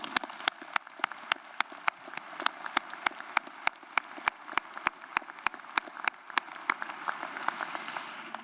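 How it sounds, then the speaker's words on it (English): Applause at a university commencement ceremony, with sharp regular claps standing out against a softer wash of clapping from a large crowd, continuing steadily throughout. "Let's give them a round of applause."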